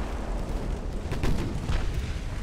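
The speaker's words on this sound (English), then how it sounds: "That's the heavy cruiser out of torpedoes and exploding." A heavy cruiser blows up in a naval battle in the Ultimate Admiral Dreadnoughts warship game, a muffled booming explosion that swells over a steady low rumble of battle noise.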